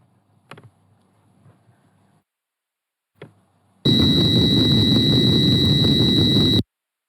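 Sonified ocean tide data, each pulse a 24-hour tide cycle: a loud, dense burst of broadband noise with a bright steady tone on top, lasting about three seconds after two brief faint clicks and near silence.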